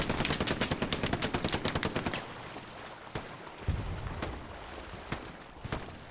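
Rapid bursts of automatic machine gun fire in a World War II battlefield in Hell Let Loose, a dense rattling volley for about two seconds, then scattered single distant shots and thuds.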